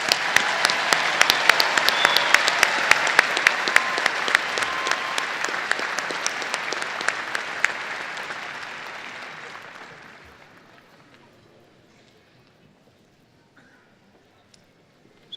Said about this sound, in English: So please give a round of applause to the doctoral degree recipients.